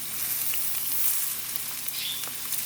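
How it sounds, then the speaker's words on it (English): Rice hitting a hot oiled pan while red rice is being cooked, producing a steady bright sizzle throughout with faint stirring scrapes, close and continuous, with no talking. "So once I throw the rice in there, then I throw my 1 cup of rice."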